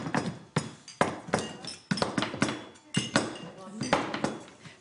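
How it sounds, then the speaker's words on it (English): Knife chopping good dark chocolate into fairly small pieces on a board, a steady run of sharp, close knocks and clicks of uneven rhythm, with no talk. "on the bottom, I want some good dark chocolate. You could grate. I find it easier to chop. Anyway, you want fairly small pieces."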